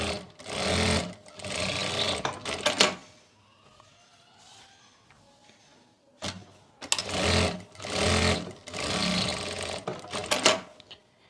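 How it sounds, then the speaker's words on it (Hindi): Sewing machine stitching long darts on a woman's suit, running in loud, close bursts of rapid mechanical chatter, with a quiet gap of a few seconds before several more runs. "सबसे पहले हमें लंबी वाली प्लेटों पे सिलाई लगानी है"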